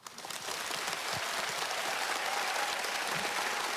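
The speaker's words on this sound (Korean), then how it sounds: "큰 박수로 모시겠습니다" A large audience at a book-concert education event breaks into sustained, dense applause that swells within the first half-second and holds steady. There is no speech over it.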